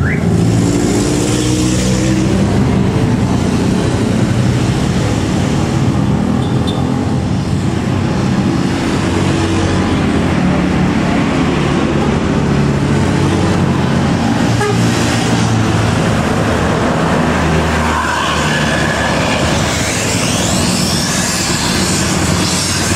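A tour bus drives past on a road at Cipatat near Bandung, a loud, steady engine roar with broadband traffic noise across the whole stretch and a brief horn toot amid other passing vehicles.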